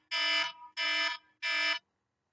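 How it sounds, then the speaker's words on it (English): A home alarm going off indoors, three loud, harsh buzzing beeps of equal length in a steady pattern, then silence. "I forgot about my alarm."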